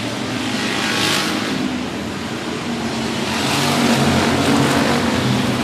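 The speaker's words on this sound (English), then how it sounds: ".44D of Dawson Smith pulls out front of the field. He gets out of the hot pit, maybe a lap down, but he's ready to try to get these laps back." Race cars roar together around a speedway during a regular race program, a dense steady wash of engine noise from mid-distance that swells slightly toward the end, with no speech.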